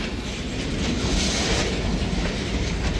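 A freight train braking to a fast stop rumbles loudly and continuously, with a heavy low roar and a faint rising hiss like brakes, and no voices.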